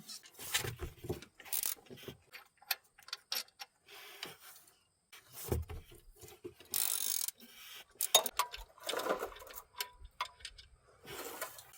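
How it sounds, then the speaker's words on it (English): A ratchet wrench loosens the power steering pump bolts on a 2007–2013 Chevy Silverado, bursts of rapid clicking ratchet strokes with metallic clanks and pauses between, close and fairly faint. "So I'm going to start with these 2 bolts on this side."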